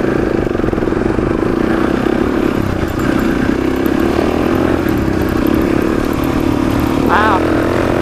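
A dirt bike rides a forest trail in the Black Hills National Forest, its engine droning loud and steady throughout while riders talk over it.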